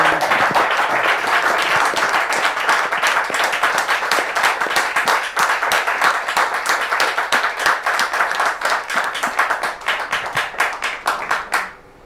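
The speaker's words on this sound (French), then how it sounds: "Est-ce qu'on peut applaudir" A church congregation applauds together, a dense, steady wash of many hands clapping close and loud for about twelve seconds before it cuts off abruptly.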